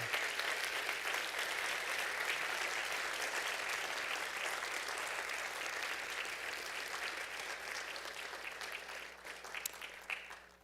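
Applause fills a hall at a college fall convocation, CRC Fall Convocation 2024, as the graduating crowd claps for itself. It is a broad, sustained roar of many hands that stays steady for about ten seconds, then thins and fades slightly toward the end.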